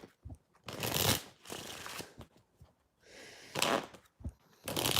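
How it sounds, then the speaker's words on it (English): Playing cards riffle-shuffled in several quick bursts at close range, each a crisp flutter separated by short pauses, fairly quiet with no talk. "let's pull the playing cards and see when."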